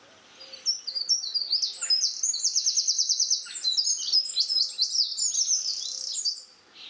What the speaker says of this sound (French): je suis réveillée par ce chant des oiseaux, c'est magnifique